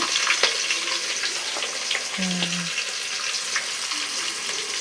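Mustard seeds crackle and pop in hot oil with onions already in the pan, a steady close sizzle dotted with sharp snaps and a brief utensil scrape.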